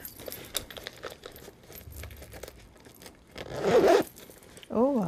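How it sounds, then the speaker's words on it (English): Zipper on a Coach Pennie shoulder bag pulled open in one smooth, close, loud run, with soft bag handling and rustling before it and a short burst of speech at the end. "Oh, I love a smooth zipper."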